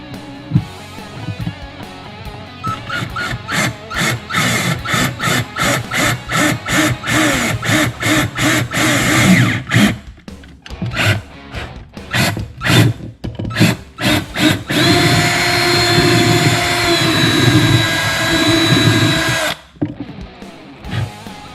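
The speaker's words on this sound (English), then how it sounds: "And we are going to drill out our holes." Power drill boring holes through a Viking motorcycle saddlebag for a Kawasaki Mean Streak, heard as a string of short whirring bursts that start and stop in quick succession, then one longer steady run, loud and close.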